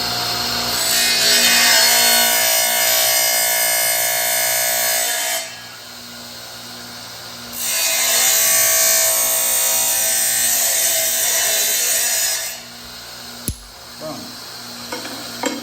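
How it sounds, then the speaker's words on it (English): Wood being sawn by hand to cut out a notch, with two long bursts of steady rhythmic back-and-forth strokes separated by a short pause, loud and close, with no talking. "This one, we have to cut a notch out."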